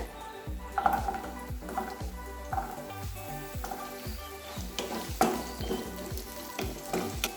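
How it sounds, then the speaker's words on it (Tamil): A dozen small onions fry with curry leaves in a pan, a close crackling sizzle cut by repeated rhythmic spatula scrapes and stirs, with no voices. "ஒரு நிமிஷம் நல்லா வதக்கிடலாம்"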